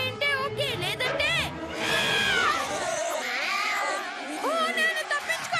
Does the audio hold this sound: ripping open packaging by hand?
no